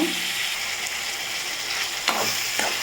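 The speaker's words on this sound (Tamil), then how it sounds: "தக்காளி வெங்காயம் வதங்கிறதுக்கு நம்ம கொஞ்சமாக உப்பு சேர்த்து நல்லா வதக்கிக்கலாம்" Tomatoes and onions sauté with salt in a hot pan, a continuous bright sizzle broken by a few scraping stirs of the spoon toward the end, close and fairly loud.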